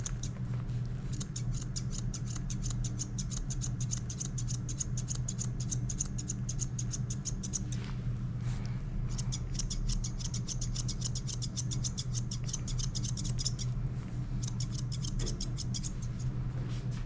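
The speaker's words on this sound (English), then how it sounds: "it is safer to use thinning shears on the face" Thinning shears snip through a dog's fur in quick rhythmic bursts of crisp metallic clicks, pausing briefly between runs, close up over a steady low hum.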